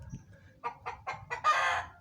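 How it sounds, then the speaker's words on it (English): A rooster crows close by in a series of short clucking notes that build into one long, loud drawn-out crow. "Roosters."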